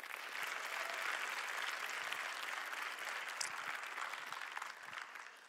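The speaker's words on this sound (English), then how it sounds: "Could we give them a round of applause" An audience at a pitch competition event claps steadily for the event team, a dense and even round of applause that holds for several seconds before easing slightly at the end.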